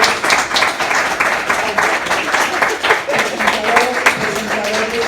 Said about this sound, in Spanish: Pues démosles un aplauso a todos nuestros